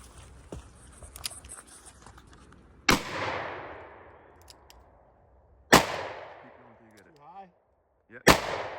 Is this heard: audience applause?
no